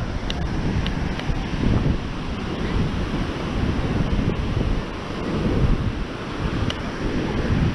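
Waves break on a beach in steady, rolling surges, with strong wind rumbling across the microphone throughout and no talk over it.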